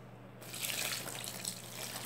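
Water poured into a hot soaking mixture for white laundry, a steady splashing gush that starts abruptly and runs on close and fairly loud with no talk.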